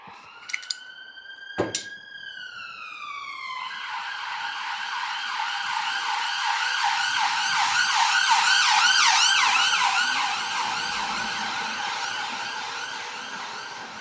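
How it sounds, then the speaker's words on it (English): A few sharp knocks, then an ambulance siren swells in with a wailing, rising-and-falling tone, growing loud as it nears and fading slightly as it passes. "Thank you, ambulance."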